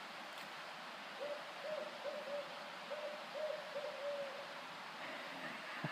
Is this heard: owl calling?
yes